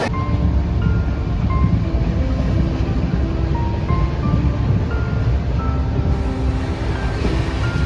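A train pulls in at Asansol railway station with a loud, steady rumble of wheels and carriages, a continuous near roar with faint tonal squeals running through it.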